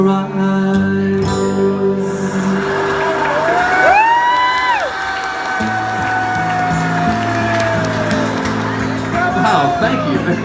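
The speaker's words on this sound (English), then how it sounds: "That was a hell of a loud cheer." A live audience at a music show cheers and whoops loudly after a song, with a sustained crowd roar and high shouts rising over lingering instrumental tones.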